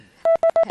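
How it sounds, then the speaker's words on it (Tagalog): Telephone keypad tones beeping during a call, four short even electronic tones in quick succession, close and clear with nothing else behind them. "May tumatawag."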